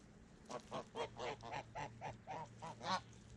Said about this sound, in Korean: 거위들이 왜 이렇게 심하게 앵두를 괴롭히는지